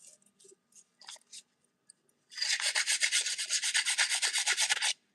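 Sandpaper rubs across wood after several short, separate scrapes, then turns into a sustained run of quick, rhythmic back-and-forth rasping strokes, close and alone.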